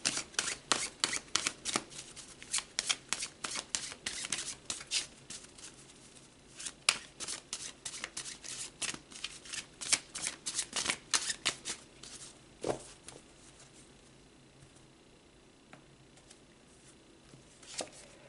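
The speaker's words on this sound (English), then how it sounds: "let's pull some tarot and go deeper" Tarot cards are shuffled close up: a long run of crisp, rapid riffling and slapping card sounds, busy at first and thinning toward the end, with no talking.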